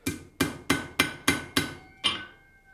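A horseshoe is hammered on the edge of an anvil while forging a door handle: seven sharp, ringing blows at an even pace, loud and close, with the last strike's metallic ring lingering.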